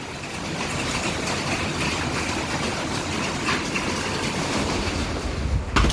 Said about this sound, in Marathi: कंटिन्यू चालू आहे आवाज येत असेल तुम्हाला पावसाचा